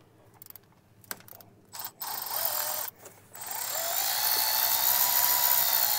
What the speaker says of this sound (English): So I got to remove the bolt here for our hold down clamp.